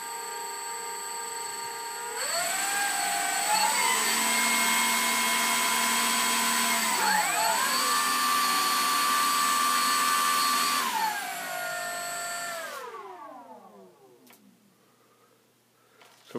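Duke B60 RC model airplane engines buzzing steadily at high pitch, their whine rising and falling as the RPM shifts between the two motors, then winding down sharply to near silence near the end.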